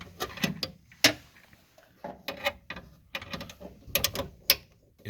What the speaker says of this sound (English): Now we're gonna attach our air hose.